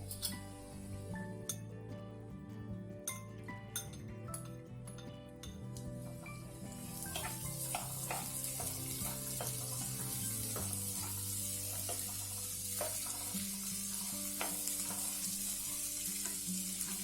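Finely chopped capsicum tipped into browned onions in a pan for green pav bhaji, sizzling up into a louder, brighter hiss after a few seconds of clinking and stirring, then frying steadily with occasional spoon taps.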